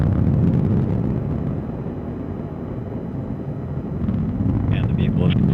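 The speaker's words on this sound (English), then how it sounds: "And the RD-180 is now throttling down as expected." The deep, rumbling roar of an Atlas V rocket's RD-180 engine in flight after launch dips slightly partway through, then swells again, staying continuous and heavy throughout.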